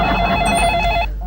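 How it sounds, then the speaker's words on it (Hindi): A telephone ringing with a steady electronic bell tone, loud and close, sounding continuously before cutting off near the end. "मैं अभी आनंद को मधुपुर फोन करता हूँ और पूछता हूँ"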